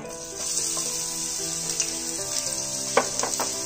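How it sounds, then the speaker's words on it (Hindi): Onions sizzle steadily in three to four tablespoons of hot oil in a heated pan, with a close, continuous hiss and a few brief stirring crackles toward the end. "अब हम इसमें अनियन डालेंगे"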